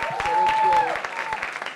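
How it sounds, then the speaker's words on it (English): An audience at a live music performance in an events setting gives brief, moderate applause with some sparse claps and crowd noise, trailing off within two seconds. "Give me a little applause."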